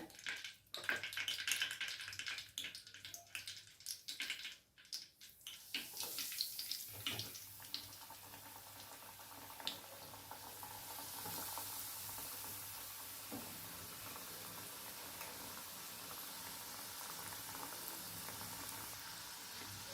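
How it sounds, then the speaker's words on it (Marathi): Snack pieces go into hot oil for frying, with some clattering handling at first, then a steady, hissing sizzle that fills the rest of the clip with no talking. "याच पद्धतीने आपण दुसरं पण टाकून घेऊया आता तेलात"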